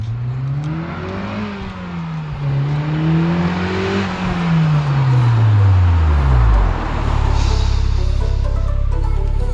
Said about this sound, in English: Fullrace Catback exhaust, bro.